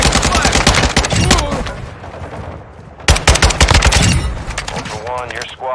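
Heavy gunfire in Call of Duty Modern Warfare 2: loud, close automatic bursts and single shots in two clusters with a short lull between, a voice speaking over the action.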